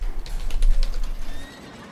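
Horse neighing in the Heroes of the Storm video game, a single whinny with a faint clip-clop of hooves, fairly close and clear, fading out after about a second and a half.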